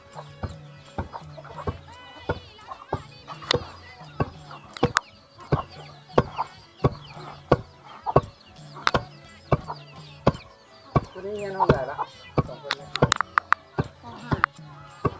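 Chickens cluck repeatedly in an old Lao village, the clucks falling between sharp, regular chopping knocks, with voices talking nearby.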